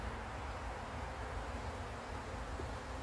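Honey bees buzz as honey frames are pulled from a hive, a steady close swarm drone that stays even and continuous throughout.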